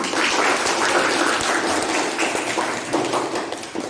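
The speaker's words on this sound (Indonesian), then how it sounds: "beri tepuk tangan untuk Pian." Classroom applause as students clap together for a classmate, a steady, dense patter of hands held throughout at close range with no talking over it.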